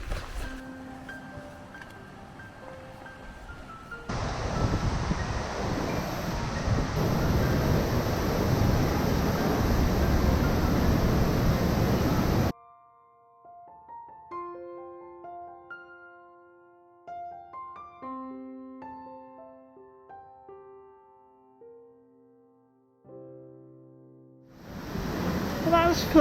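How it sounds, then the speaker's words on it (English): A waterfall in South West Iceland, set back from the viewpoint, roars as a loud, steady, wide rush for several seconds before cutting off abruptly. Soft melodic tones follow, then the rushing returns briefly at the end. "this is the waterfall that's a little bit set back"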